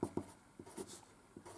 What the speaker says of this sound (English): So I'd write down alpha, for example.